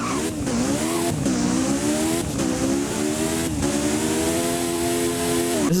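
A 1988 Lotus Esprit Turbo revs hard in the Driving Empire game, its engine note climbing repeatedly and dropping sharply at each gear change, a loud, close whine with a faint tire squeal and no talking.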